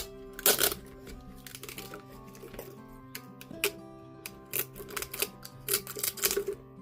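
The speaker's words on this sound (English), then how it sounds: "Just go around and tape each one of them." Adhesive tape is pulled and wrapped around cut paper rolls, giving faint, close ripping and crackling bursts and small taps at an irregular pace.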